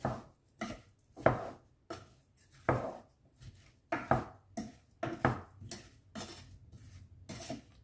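A spoon stirs an apple and pear compote in a pot, making a series of distinct knocks and scrapes in an irregular rhythm, close and fairly loud. No talking is heard.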